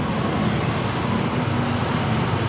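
Steady road traffic noise rolls on continuously, a broad even rumble and hiss from passing cars and buses, loud and close with no breaks.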